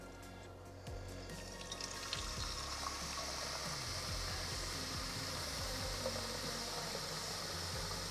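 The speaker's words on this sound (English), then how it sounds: "fill that with the water." Tap water runs into the clean-water tank of a Bissell Little Green Max Pet Deep Cleaner, starting as a soft trickle and then becoming a steady, quiet rushing fill with small gurgling drops.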